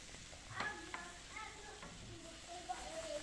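Chopped tomatoes are stirred in a frying pan while cooking Alexandria-style sodok, giving a quiet, low sizzle broken by scattered spatula scrapes and light taps against the pan.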